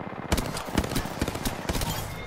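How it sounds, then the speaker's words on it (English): Rapid bursts of gunfire in the video game Apex Legends, sharp repeated shots in quick volleys, fairly loud and continuous, with faint voices underneath. "I hear gunshots"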